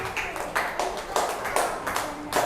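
Classroom of children clapping in the music room, a few distinct claps roughly every half second, moderately loud and alone.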